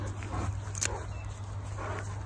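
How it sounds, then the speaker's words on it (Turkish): An Anatolian shepherd dog of Kangal type, dark brindle in colour, gives short whimpers and yips close by over a steady background hum. "Anadolu çoban köpeğinin kangal tipi, kara kırçıl renginde bir köpek."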